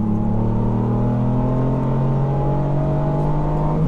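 A small three-cylinder engine in a Ford Fiesta ST with a Revo Stage 2 tune drones loudly and steadily as the car accelerates at full power, its low hum rising gradually in pitch over a few seconds.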